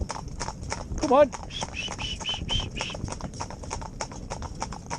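Hooves of two Gypsy Cob horses driven in tandem clip-clop in a steady, close rhythm throughout, with a brief whinny-like call near the start and a driver's voice speaking over the hoofbeats.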